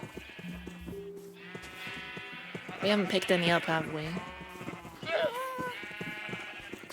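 Minecraft sheep let out several wavering bleats over a player's speech, with a louder cluster of bleats in the middle.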